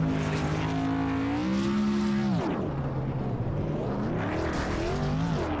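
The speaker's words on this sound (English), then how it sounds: "Burnouts." Modified race cars doing burnouts at New Smyrna Speedway in iRacing: loud, continuous engine roar with rising and falling revs and steady tire squeal, close and sustained throughout.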